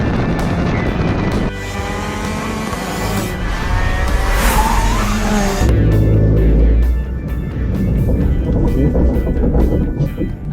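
A car sliding on a race track, engine roaring with tires squealing as it drifts, loud and close throughout, with a rising whine in the middle before the engine note shifts.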